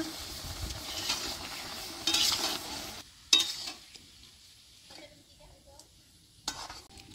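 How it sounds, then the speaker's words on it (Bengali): Chunks of bottle gourd are stirred into a ground spice paste of mustard and cumin in a pan, with soft scraping and a light sizzle, a couple of sharper spoon knocks against the metal, then quieter pauses. "সব কিছু আমি ভালো করে মশলার সাথে লাউটা মিক্স করে নিব এরকম করে।"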